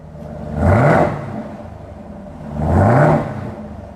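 A Toyota Supra engine gives two separate throttle blips, each rising sharply to a loud, rasping peak and then falling back to a steady idle rumble, heard up close.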